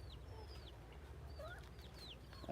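Desi chickens clucking on a Bangladeshi poultry farm: several short, rising clucks and chirps scattered over a steady low hum, faint and somewhat distant.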